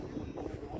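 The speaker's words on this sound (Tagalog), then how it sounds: "medyo malakas ang hangin dito" Low, steady rumble of wind buffeting the microphone near trees by a school playground, continuous and fairly loud with no other clear sounds.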